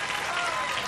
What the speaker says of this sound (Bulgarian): Тези аплодисменти са за вас.